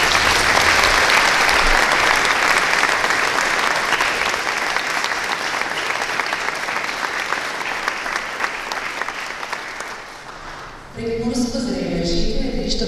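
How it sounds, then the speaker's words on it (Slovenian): A concert audience at a 30th anniversary jubilee gives sustained, dense applause for about ten seconds, fading slightly before a voice speaks over the hall. "ampak vseeno namenimo en lep aplavz"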